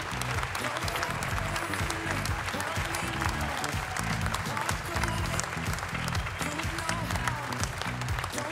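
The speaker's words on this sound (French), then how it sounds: "On peut les applaudir." An audience at the 2023 International Catering Cup award ceremony applauds, with dense, sustained clapping from start to finish and some crowd voices mixed in.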